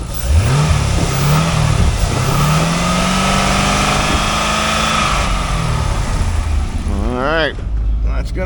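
A 2003 Chevrolet Corvette engine at a wrecking yard rises from a rumbling idle into a long rev and holds high. Near the end it sweeps quickly up and down in pitch, loud and close, with a voice speaking over it.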